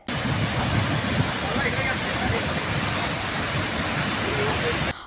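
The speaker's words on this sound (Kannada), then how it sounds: "ರಾಧಾನಗರಿ ಜಲಾಶಯದಿಂದ ಅಪಾರ ಪ್ರಮಾಣದ ನೀರು ಹೊರಬರ್ತಾ ಇದೆ" A huge volume of water pours out through three gates of Radhanagari dam in Kolhapur district, Maharashtra, after an accident during gate repair, making a dense, continuous roar that holds steady for about five seconds.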